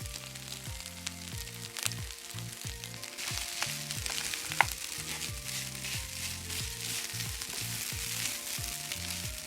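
Cold rice stir-frying in a pan with bacon and no added oil, for chwinamul bacon fried rice, gives a steady close sizzle with repeated rhythmic scraping and tossing strokes throughout, with no talking.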